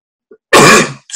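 A single sharp sneeze bursts out close by, loud and short, with a small breathy intake just before it and a brief sound after.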